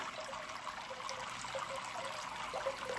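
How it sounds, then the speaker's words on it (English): Steady trickling and splashing of water from an adjustable internal aquarium filter outflow falling into the tank water, close and continuous, with a soft bubbling texture throughout. "if I turn it, you can see the water's coming out harder over here"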